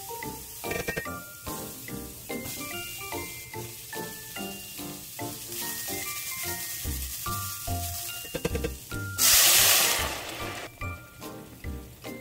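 Cauliflower rice stir-frying in a pan gives a steady sizzle with stirring scrapes throughout, swelling into a louder hissing burst near the end.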